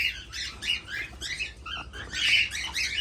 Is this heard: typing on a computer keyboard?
no